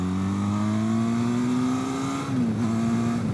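A Benelli TRK502x motorcycle engine revs steadily and loudly nearby, its pitch rising gradually, then dipping briefly before settling again.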